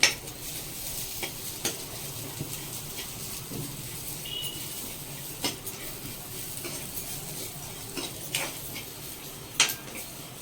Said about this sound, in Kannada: ತೆಂಗಿನಕಾಯಿ, ಇದು ಸೋಂಪು, ಚಕ್ಕೆ, ಲವಂಗ ಇದೆಯಲ್ಲ, ಇದನ್ನು ಇದಕ್ಕೆ ಆ್ಯಡ್ ಮಾಡಿಕೊಂಡು ಇದು ಫ್ರೈ ಮಾಡ್ಕೋಬೇಕು.